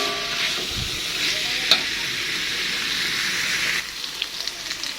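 Potatoes and beef liver stir-fried in chili paste for a sambal give off a loud, steady sizzle, with spatula scrapes and stirring knocks running throughout.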